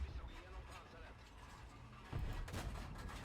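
A tank cannon in World of Tanks fires with a deep boom, followed by metallic mechanical clanks of the shell loading, heard inside the cockpit, fairly faint overall with a sharper burst near the end.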